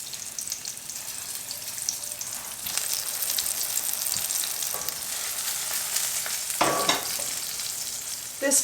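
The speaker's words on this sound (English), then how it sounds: "It's time to saute the fish. So we're heating a nice heavy bottom pan." Fish fillets for meunière sauté in oil in a heavy-bottomed pan, giving a steady, close sizzle and crackle that runs throughout with brief louder spatters and no talking.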